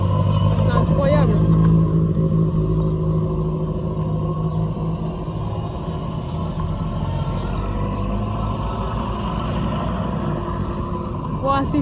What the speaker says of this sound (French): Les voitures commencent à arriver.